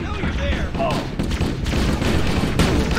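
Rapid assault rifle fire in the video game Halo, a dense continuous fusillade under a player's voice.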